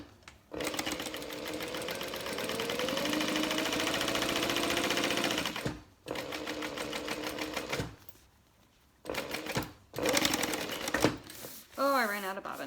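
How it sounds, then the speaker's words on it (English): A sewing machine top-stitches vinyl on a handbag in long bursts of rapid mechanical clatter, stopping and restarting with brief pauses, a voice speaking near the end. "Turn the stitch length up a little bit for top stitching."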